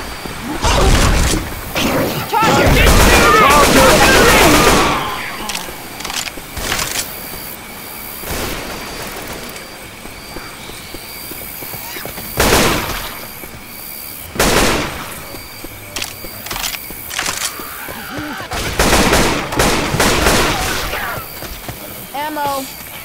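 Gunfire in the video game Left 4 Dead 2 comes in loud bursts and repeated sharp shots spread across the scene, with players talking over the action.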